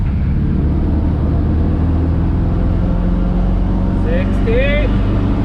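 Interior engine drone of a Ford F100 pickup truck being driven hard on the road, a loud, constant low rumble throughout with a brief faint rising whine near the end; no talk.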